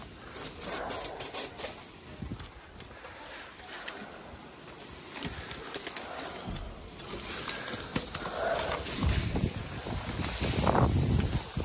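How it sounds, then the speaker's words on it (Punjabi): Strong wind buffets an outdoor microphone near a boiler exhaust pipe job, rumbling in irregular gusts that swell toward the end, with no clear speech. "ਹਵਾ ਵੀ ਕਾਫੀ ਹੈ"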